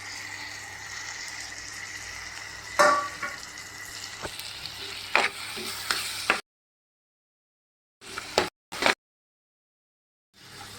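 Chopped tomatoes go into a pan of sautéed onions for a tuna fish curry, sizzling and frying with stirring clatter and a few sharp knocks, then near silence broken by brief bursts of sizzle.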